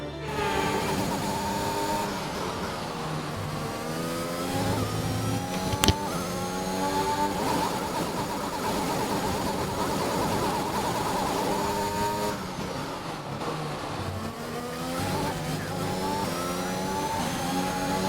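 F1 2021 race car engine screaming steadily at high revs, with gear changes shifting the whine up and down across a long stretch and no talking.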